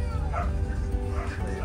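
Several dogs bark, yip and whimper indoors in a ferry hallway, the sounds soft and somewhat distant against a steady low engine rumble.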